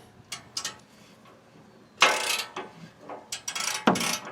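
A flexible ratchet tightens a nut, giving several brisk clicking ratchet strokes in short bursts, close and fairly quiet, with small gaps between the pulls.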